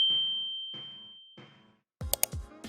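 Notification bell sound effect: a sustained bright ding rings out and fades, with three soft clicking bursts beneath it, followed by a quick cluster of sharp chimes and clatter.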